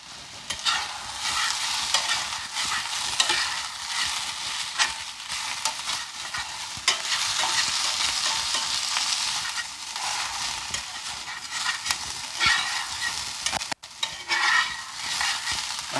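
Potatoes and sun-dried tomatoes fry and get stirred in a cast iron skillet, a steady close sizzle running throughout with frequent scraping stirs and no talking.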